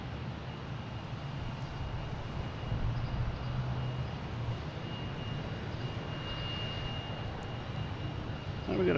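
An American Eagle regional jet moves at Boston Logan Airport, heard as a steady, distant engine roar with low rumble and a faint high whine, continuous over breezy outdoor ambience.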